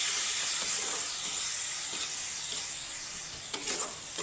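Spices frying lightly in a pan for a chickpea-paste and okra dish give a steady, fairly loud high hiss throughout, with a few soft stirring scrapes near the end and no voices.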